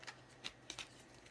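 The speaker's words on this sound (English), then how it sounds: "when the cards are bigger, it's hard to shuffle" Large tarot cards are shuffled by hand in a few quick, separate riffling bursts, close and fairly soft, with short quiet gaps between them.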